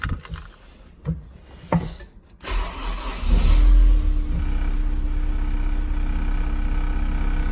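Honda S2000 engine cranks over a few times, catches and revs up, then settles into a steady, loud idle close by.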